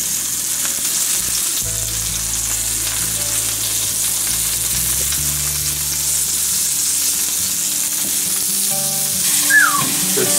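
Wild turkey and deer meat kebabs sizzling in a hot grill pan with olive oil, a loud steady hiss of frying that carries on throughout with a faint low hum beneath it.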